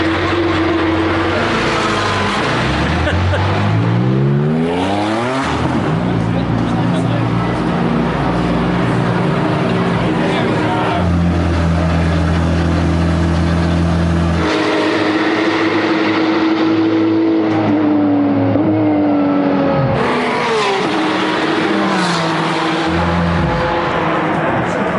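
A Porsche Carrera Cup race car revs hard on hot laps, its engine note climbing sharply through gears with abrupt shift drops, loud and close from onboard, with road and wind roar underneath and occasional talk.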